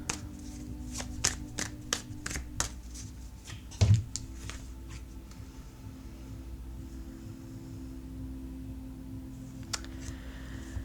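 Tarot cards shuffled and flipped by hand, a quick run of crisp papery snaps and riffles near the start, then a louder thump and a few scattered flicks over a quiet background.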